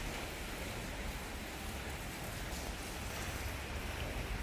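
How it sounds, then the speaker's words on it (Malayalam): Heavy rain falling on a waterlogged road, a steady, dense hiss of downpour at even loudness throughout, with no voices. "എന്തൊരു മഴയാണ് തന്നെ പെയ്ത് കൂട്ടിയത്."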